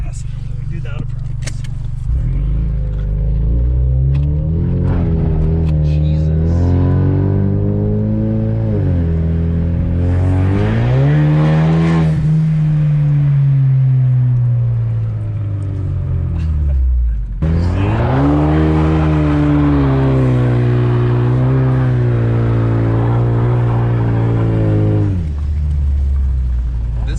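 A Ford Mustang with a 2.3-litre four-cylinder EcoBoost engine accelerating hard through several gears, each loud rising rev followed by a shift and a second strong pull, close and under occasional talk.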